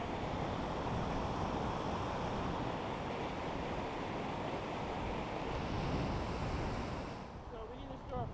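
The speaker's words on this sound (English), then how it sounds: "You go check out the waterfall." Constant broadband roar of a waterfall in Yosemite National Park, loud and steady with wind buffeting the microphone, easing slightly near the end.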